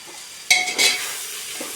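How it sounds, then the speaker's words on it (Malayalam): Ripe tomatoes and curry leaves dropped into a hot pan of frying onions, a sudden sharp sizzle and a quick stir, then a steady close crackle of frying. "തക്കാളി ഇട്ട് ഒന്ന് ഇങ്ങനെ ഒന്ന് ഇളക്കി കൊടുത്തിട്ട്"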